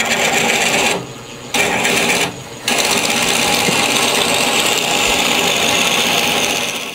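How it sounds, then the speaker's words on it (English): Power drill boring a hole in a banksia pod, a steady close whirring grind that drops out briefly twice early on, then runs continuously. "I'll take my 400 bit and drill a hole"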